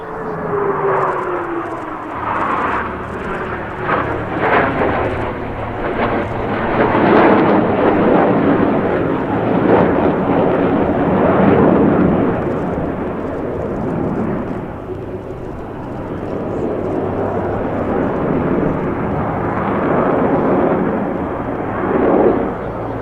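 U.S. Navy Blue Angels jets flying maneuvers at a New York airshow, a loud sustained roar of jet engines that swells and fades as they pass, with a rumbling background.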